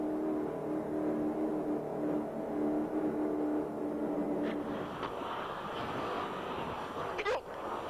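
An offshore racing powerboat engine drones loudly with a steady low hum, then becomes rougher and more turbulent as the throttle opens, with wind and water rush and brief faint shouts over it.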